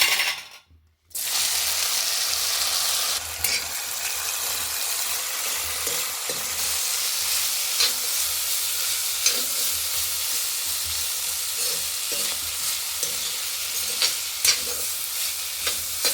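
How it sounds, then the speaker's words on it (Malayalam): Vegetables drop into hot oil in an iron pan after a brief quiet moment, then a loud, steady sizzle of frying continues throughout, with occasional stirring clinks. "ഇതിനെ ചൂടായ എണ്ണയിലേക്ക് ഇട്ടു"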